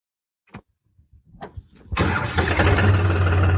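Farm tractor engine starts: a few faint clicks and thumps, then it catches and settles into a loud, steady close-up idle rumble.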